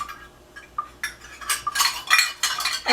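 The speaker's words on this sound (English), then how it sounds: "we're going to whisk some flour and salt into a large bowl" Whisk clinking and scraping against a large bowl while flour and salt are mixed, with irregular bursts of metallic tapping growing busier and louder toward the end.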